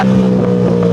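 A Suzuki GSX-R 1000 motorcycle engine pulls in second gear with a loud, steady droning tone and wind rush, held close for a single second.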